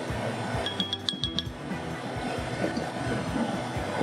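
A measuring spoon stirs a freeze-dried bang bang shrimp backpacking meal, giving a quick run of light clinks in the first half, then a quieter stretch of soft rustling.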